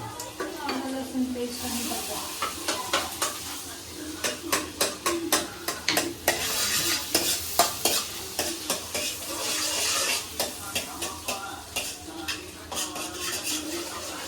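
Butter sizzles in a pan while pav bhaji is stirred, a steady frying hiss broken by rhythmic scraping and clinks of a metal spoon against the pan, loud and close, with no talking.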